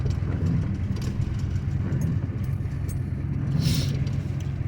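An old vehicle, first started after 20 years, creeps forward slowly in two-wheel drive, with a steady low engine rumble throughout and a brief rattle near the end.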